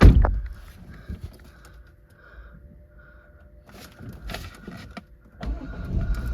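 A Jaguar F-Pace 2.0 diesel engine cranks and starts, then settles into a quiet idle, with some clicks and a brief rise in engine noise near the end.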